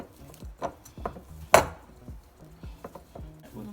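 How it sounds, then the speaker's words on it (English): Festival dough is kneaded by hand, with soft rhythmic pressing and slapping thumps and one sharper knock partway through. The sounds are close and moderately quiet, with no talking. "just kneading it"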